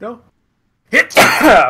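A single sharp, loud sneeze bursts out close to the microphone right after a few short spoken words, with a brief silence beforehand.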